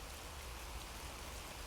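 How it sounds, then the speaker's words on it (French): Steady rain pours onto an outdoor vegetable garden plot, a dense, even hiss of drops that stays constant and close, with no voices. "il faut qu'il se mette à pleuvoir"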